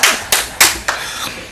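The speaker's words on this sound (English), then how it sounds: "You can clap anytime you want," Sparse clapping from an audience at a Ghanaian political announcement, about four sharp, close claps spaced roughly a third of a second apart before trailing off into a faint background.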